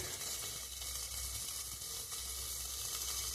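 Potatoes fry in a pan for an aloo begun curry, giving a steady, even sizzle throughout at moderate, close volume.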